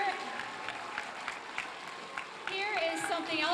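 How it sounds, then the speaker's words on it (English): Audience applause at a school Blue Ribbon celebration, a steady mid-level round of clapping, with voices rising over it toward the end. "Let's give her some applause for that."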